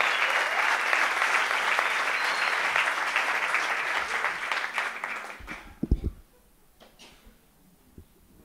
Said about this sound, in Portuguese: Uma salva de palmas para João Esteves.